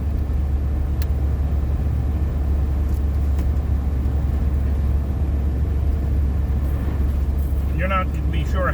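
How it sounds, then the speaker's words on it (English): Steady road traffic rumbles past near a park entrance, a constant low drone of cars with no distinct pass-bys and a faint high squeak near the end. "Uh-oh, traffic."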